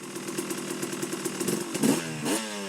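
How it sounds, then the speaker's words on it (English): A KTM two-stroke dirt bike engine fitted with a Rekluse RadiusX clutch idles with a rapid buzzing putter, then gets blipped in two sharp revs near the end, the pitch climbing and dropping each time. "Rev it up, it doesn't take off."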